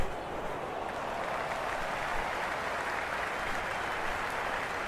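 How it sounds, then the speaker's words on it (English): A cricket crowd at a Big Bash League match between the Sydney Sixers and Adelaide Strikers, a steady broad roar of cheering and applause that holds even throughout, heard from within the ground. "There's an almost tangible fervour throughout the crowd at the moment."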